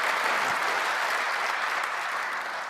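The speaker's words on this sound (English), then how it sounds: "round of applause" Steady applause from a crowd at the world premiere of the 2019 Jaguar I-Pace electric SUV, continuous clapping at an even level throughout with no pauses.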